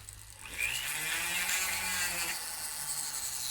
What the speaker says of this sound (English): the point on a drill works just as good